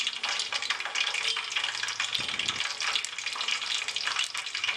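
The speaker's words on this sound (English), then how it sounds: "once you add in hibiscus flower to the oil, you will hear a sound like this" Hibiscus petals sizzle and crackle in hot oil while a herbal Ayurvedic hair oil is being made, a dense, steady frying hiss heard close up with no talking.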